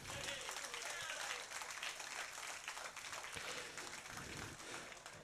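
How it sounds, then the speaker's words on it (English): An audience at a socially distanced cruise ship show applauds, a dense, steady patter of clapping heard fairly faintly for several seconds. "Give them a round of applause, everybody."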